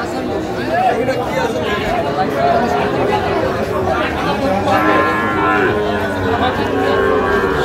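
Shahiwal bull calf mooing at a busy cattle market in Kishoreganj, with repeated lowing from several cattle close by under steady crowd chatter and bargaining voices.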